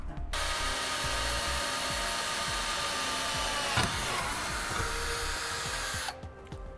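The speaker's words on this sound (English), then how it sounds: "I'm going to start a small hole and drill into the frame." Power drill boring a pilot hole into the steel frame of a 2017 vehicle during a Curt trailer hitch receiver installation, a loud, steady whine running continuously for about six seconds before stopping abruptly, with no talking.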